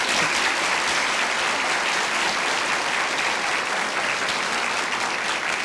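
Dense, steady applause from a TV studio audience on a Brazilian talk show, loud and continuous for the whole stretch with no pauses or voices on top.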